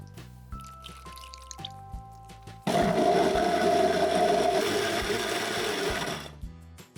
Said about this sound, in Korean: 고추는 이렇게 거칠게 갈아주시면 돼요